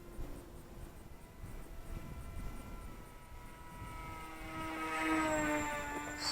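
Volantex Ranger G2 1200mm-wingspan RC plane doing aerobatic rolls, its electric propeller buzzing steadily at a distance and rising to a louder, higher whine as it passes nearer toward the end.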